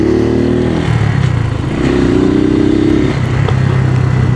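Suzuki TU250x motorcycle engine running loud and close while riding, with a steady low drone that dips briefly as a gear shift drops through neutral, then pulls back into first and holds.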